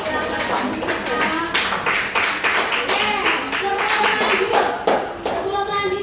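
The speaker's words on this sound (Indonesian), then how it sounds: "Tepuk tangan untuk kelompok 3." A classroom of students applauding a group, with quick, close, crisp hand claps in a bright patter that carries on throughout and a little faint chatter mixed in.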